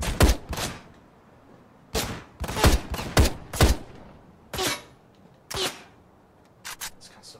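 Assault rifle gunfire in the video game Ride to Hell Retribution, loud sharp shots in short bursts and single cracks spaced irregularly, close and punchy.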